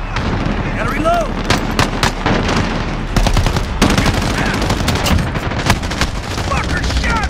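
Rapid gunfire in Call of Duty Modern Warfare, dense bursts of close, sharp shots and automatic fire with booming impacts, continuous throughout, with brief shouted voices mixed in.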